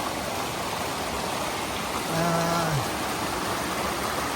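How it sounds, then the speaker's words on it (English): Sage Ravine Brook on the Connecticut–Massachusetts line flows in a steady broadband rush of water, with a brief faint tone partway through. "this is Sage Ravine Brook"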